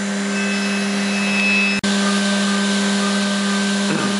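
A Haas CNC milling machine cuts steadily with an end mill, giving a loud, continuous high whine with a constant tonal hum. There is one sharp break partway through.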